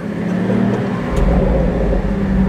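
A sports car engine rumbles deeply and steadily through its exhaust at close range, a low throaty idle with slight swells in loudness.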